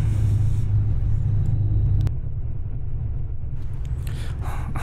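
Bus engine rumble heard from inside a bus travelling near Medina, a steady low droning hum that drops slightly in level midway, close and continuous without talk.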